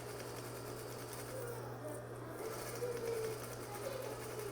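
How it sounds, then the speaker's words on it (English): A sewing machine top stitching through all the layers of a messenger bag flap, a close, steady whirring drone that keeps running without a break, with a faint voice talking underneath. "now I'm just top stitching. I'm stitching through all my layers here."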